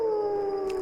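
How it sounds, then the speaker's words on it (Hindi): A jackal howls in a night-time graveyard setting, one sustained, slightly falling wail held steady and loud throughout, alone without talk, used as a spooky story sound effect. "सियार चिल्ला रहा था,"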